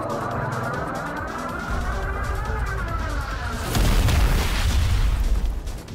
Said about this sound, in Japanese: すごい火力の爆発で勝利。